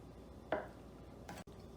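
A knife chops ingredients for a keto meatloaf on a small chopping board, giving two short, close thuds about three quarters of a second apart over quiet room noise.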